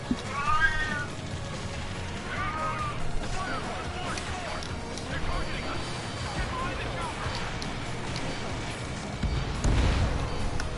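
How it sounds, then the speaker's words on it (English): A cat meows several times, drawn-out and plaintive, over a busy background of Ace Combat 7 game noise and a talking voice. "Oh, my cat just entered the room."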